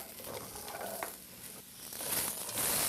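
Vegetables are split and sizzle in olive oil in a soup pot, a soft continuous crackle and hiss with faint stirring scrapes that swells a little toward the end, with no voices.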